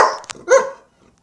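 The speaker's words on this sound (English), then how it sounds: "That was the dog barking." A big dog lets out a couple of deep, sharp barks close by, the second louder and more drawn out, then quiet.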